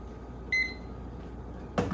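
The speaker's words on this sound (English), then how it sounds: "Let me start our timer." A single short electronic beep from a kitchen timer sounds once, followed by a soft clunk, over quiet room noise while brewing beer.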